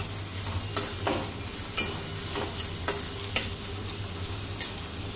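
Chopped onion browning in a pan, a soft continuous sizzle broken by about half a dozen sharp scraping stirs of a spatula against the pan.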